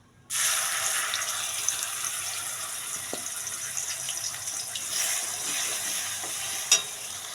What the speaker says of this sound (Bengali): দেখো ওই কড়াইতে আমি তেল দিয়ে দিয়েছি, তেলটা গরম হয়ে গেছে। এবার মশলাটা দিয়ে দেব।